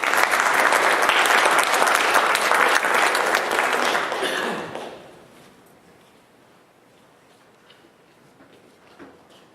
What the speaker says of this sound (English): let's all give one big round of applause for Dom and Carter